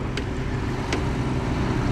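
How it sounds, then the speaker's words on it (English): A Hagglunds articulated tracked military vehicle in camouflage driving into a showground arena, a steady low engine rumble and track noise droning continuously at moderate distance. "an articulated tracked vehicle used, as you may have gathered from the camouflage, amongst others by the Royal Marines in Arctic warfare"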